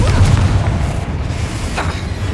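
A Confringo fire-blast spell detonates in the wizarding game Hogwarts Legacy, a loud deep boom that rolls on as a heavy sustained rumble for a couple of seconds with no spoken lines.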